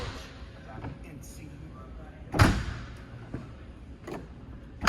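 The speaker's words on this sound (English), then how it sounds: "we're going to close the bay doors" A heavy storage bay door on a 2016 Prevost H3 motorcoach shuts with a solid thud midway, followed by lighter clicks and another closing bang at the end, amid quiet room noise.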